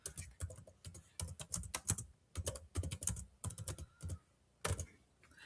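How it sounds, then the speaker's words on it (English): Quick bursts of keystrokes on a computer keyboard, with short runs of clicks broken by brief pauses, close and fairly quiet, no voices. "So first of all, we type in the name of our goal."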